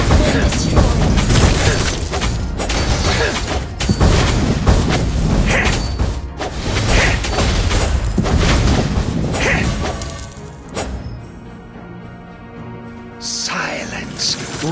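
Turret destruction in the mobile game Mobile Legends: heavy crashing booms and smashing impacts with whooshes, loud and dense over game music, fading to quieter tones near the end, with announcer voice lines over it.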